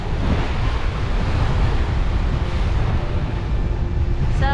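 A squall at sea off Martinique brings constant wind buffeting the microphone over crashing waves against a sailing boat, a loud unbroken roar with a brief faint whistle at the very end.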